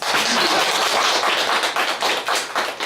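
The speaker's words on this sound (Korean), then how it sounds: "일단 박수 한번 주세요" Seminar audience applauds together, dense steady clapping at close range lasting a few seconds with no talk over it.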